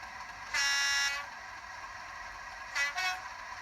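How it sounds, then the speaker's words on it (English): A model Class 37 diesel locomotive's sound decoder sounds its horns, starting with one sustained tone and then a short two-note blast after a pause. The sound is fairly loud and heard on its own. "Then we will go through one or two of the horns."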